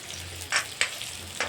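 Onions frying in a pan for a chicken curry, a soft steady sizzle with a low hum underneath and three brief louder stirring scrapes spaced across the moment.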